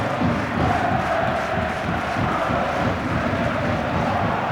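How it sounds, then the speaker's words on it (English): A large football stadium crowd at a 1999 Saturday afternoon match roars continuously, a dense, steady wall of cheering and chanting with no pauses, loud and enveloping throughout. "the crowd here this afternoon making as much noise as they did then."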